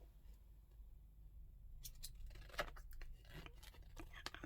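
Big scissors cut along the edge of fabric in a quiet room, a series of crisp snips and scratchy slicing sounds clustered in the second half, faint and close.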